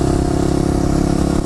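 A Suzuki DR 650 supermotard motorcycle engine running steadily, loud and close with a constant rough drone and no clear revving.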